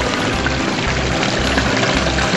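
Water rushes steadily through a home-built recirculating sluice box fed by a pump bucket, a loud, close, continuous pouring wash with no talk.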